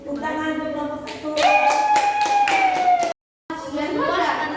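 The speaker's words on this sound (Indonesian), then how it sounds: "Tepuk tangan untuk kelompok 1." Classroom applause for a group presentation, a short burst of hand clapping mixed with children's voices and a sung or drawn-out tone, then a brief silence before voices resume.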